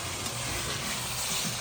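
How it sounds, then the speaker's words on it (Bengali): Meat with spices and salt sizzles in a pan during a brief sauté, a dense, even hiss with faint stirring underneath, heard close and without any voice. "এবার মাংসটা একটু কষিয়ে নেব, খুব বেশি না, জাস্ট মশলার সাথে অল্প একটু মিশিয়ে নিচ্ছি।"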